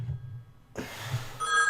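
A telephone bell rings in a workshop during a live model-building stream, a bright, close ring with steady tones that begins abruptly partway through, following a brief stretch of quiet.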